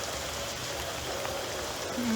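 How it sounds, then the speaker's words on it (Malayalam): Steady rain patters evenly across surfaces, a constant soft hiss with no pauses, heard alone. "അത്യാവശ്യം നല്ല മഴ കാരണമുണ്ട്."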